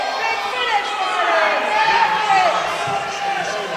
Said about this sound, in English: The crowd is just erupting.